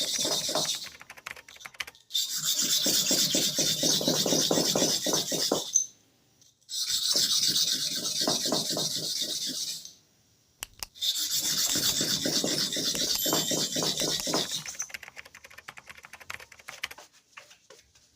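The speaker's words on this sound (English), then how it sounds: "After the sharpening of the upper clipper blade, we now go into the bottom clipper blades." Bottom blades of hair clippers being sharpened, giving three long bursts of steady rasping, filing-like grinding separated by short pauses, close and fairly loud with no talking.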